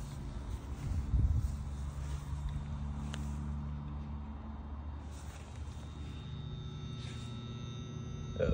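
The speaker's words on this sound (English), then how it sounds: "I don't know if you can hear the ballast hum" A McGraw Edison mercury vapor area light gives off a steady, low electrical ballast hum that drones on unchanged throughout, fairly faint, with a brief louder rumble near the start.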